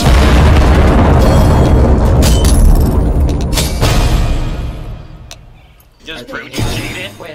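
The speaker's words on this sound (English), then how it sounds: "It is going to explode." A bomb detonates in a CS:GO match, a loud booming blast with shattering debris that rolls on for several seconds before fading, followed by scattered bursts, with players talking over it.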